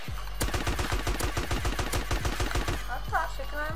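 Rapid automatic gunfire in DayZ as a magazine is emptied at a player, a dense run of sharp, evenly spaced shots lasting a few seconds, loud and close, ending in a brief scattered tail.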